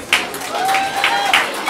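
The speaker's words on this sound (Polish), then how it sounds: "Brawa!" Audience clapping for a folk group at a Christmas carol festival in Rakowiec, a brief, loud, dense burst of applause from a crowd with a thin whistling tone rising above it.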